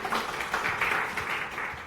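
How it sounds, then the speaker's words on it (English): Brief applause from a conference audience greeting a presenter on Linux for T2-chip Intel Macs, a short burst of clapping with slightly uneven swells, moderately loud and with no talking. "Please give a round of applause to our presenter today"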